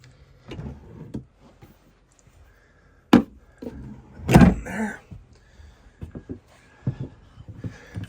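A truck camper bathroom door in an Arctic Fox 1150 is pushed shut and latched, giving a few sharp knocks and a louder thump amid shuffling and clicking handling noises, close by with no talk.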